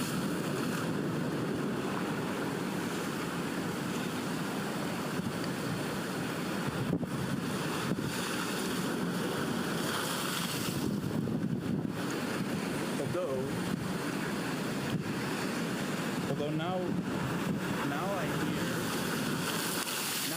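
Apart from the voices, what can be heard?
sea waves and ocean wind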